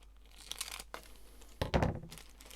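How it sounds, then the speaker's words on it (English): Scissors snipping the end off a crisp glassine stamp envelope, a few close, papery crinkles followed by a louder crackling cut and rustle of the thin paper. "I've got this piece of glassine, which is a glassine envelope, and I'm just going to use this. In fact, I'm just going to snip the end off."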